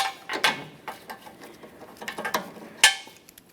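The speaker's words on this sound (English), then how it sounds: "It's time for all 8 of those mounting bolts, 4 along each side." Front bumper bracket mounting bolts are started by hand on a 2012-2015 Honda Civic. Close, brief metallic clicks, taps and scrapes come in scattered bursts, with no speech.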